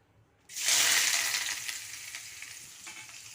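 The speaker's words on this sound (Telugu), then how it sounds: "కొద్దిగా బ్రౌన్ కలర్ వచ్చేంత వరకు వేయించుకోవాలా" A loud burst of sizzling as something hits a hot pan, then a continuous frying hiss that slowly eases, with faint stirring scrapes.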